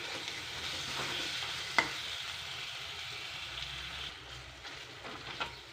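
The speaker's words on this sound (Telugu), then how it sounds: "ఇప్పుడు టమాటా ముక్కలు కూడా వేసి ఒక నిమిషం ఫ్రై చేయాలండి" Tomato pieces fry in a pan for a flat bean curry, giving a soft, steady sizzle with occasional clacks of stirring, faint and close, with no voices.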